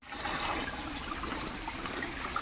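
Water from a small river stream flows in a steady, close-up rush with a bubbling, trickling texture throughout, and no voices over it.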